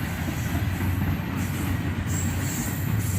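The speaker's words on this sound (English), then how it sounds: "an intermodal train led only by a single -8" An intermodal freight train led by a single Dash 8 diesel locomotive rolls past, its steady low rumble and wheel noise holding loud and continuous throughout, with faint high rail squeal.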